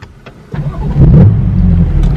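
A car engine cranks briefly and then catches, settling into a loud, steady low idle close by, with no talk.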